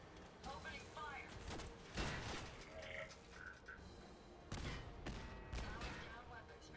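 Robots fire in the Fallout 4 video game: scattered bursts of shots and mechanical clatter at a low level, mixed with voices and other game effects.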